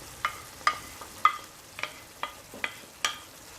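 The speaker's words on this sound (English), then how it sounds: "I'm still going to allow this fry for about a minute again before coming back to it" Yellow and green peppers with other vegetables stir-frying in a hot pan for coconut fried rice: a soft sizzle under a series of about eight sharp, evenly spaced clinks and scrapes of a utensil against the pan.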